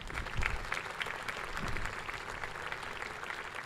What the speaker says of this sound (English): Let's clap for President Museveni.